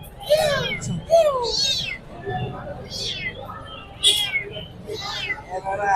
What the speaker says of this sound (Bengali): ওখানে অনেকগুলো বিড়াল আছে দেশি মিক্স বিড়াল